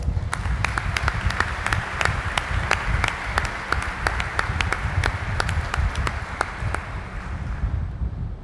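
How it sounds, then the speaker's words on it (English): Audience at a change of command ceremony at FRC Southeast gives a steady round of applause, mid-distance and even, with a few sharper individual claps standing out against a low rumble of wind. "please, let's give them a great round of applause"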